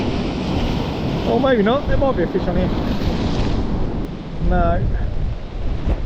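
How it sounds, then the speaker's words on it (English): Strong wind buffets the microphone on a rough-sea shingle beach at Folkestone with surf behind it, a constant loud roar while someone speaks briefly and a whistling tone rises and falls. "it's so windy, I'm struggling to stand here"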